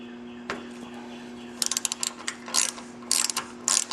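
Bolt being backed out with a 6mm Allen key on a cross-country mountain bike's lower link, heard as a single knock followed by close, rapid ratcheting clicks in several short bursts, with no talk.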